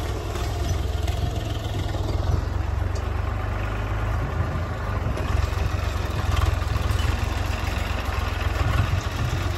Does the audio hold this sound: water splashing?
no